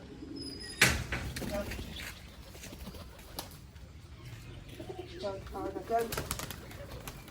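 Pet pigeons coo softly and intermittently while feeding, with a sharp knock early on and a person speaking nearby.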